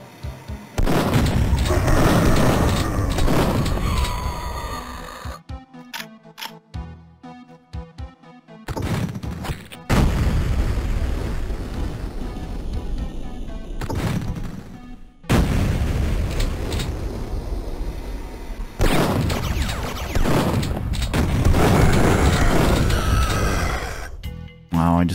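Heavy automated turret gunfire and booming explosions from the PC shooter Duke Nukem 3D: 20th Anniversary World Tour come in loud, dense bursts, broken by brief quieter gaps between the volleys.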